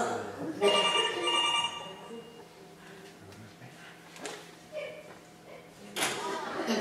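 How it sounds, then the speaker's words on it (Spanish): A telephone bell rings indoors in a Spanish stage comedy, with bright repeated trills near the start while voices talk over and around it. "Ay, Paco, voy a ver el teléfono."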